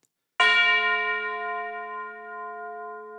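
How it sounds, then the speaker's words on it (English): Two orchestral tubular bell notes from a Hollywood Fantasy Orchestra sample library strike together with a bright metallic attack, then ring on in a long, steady, slowly fading tone. "I have a couple of notes from the orchestral or tubular bells"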